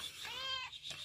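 A cat gives a clear, close, rising-and-falling meow at feeding time. One drawn-out call stands alone, with no voices over it.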